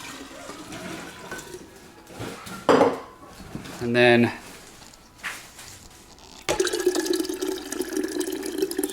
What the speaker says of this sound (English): This is glass also, so I can pour hot liquid in it.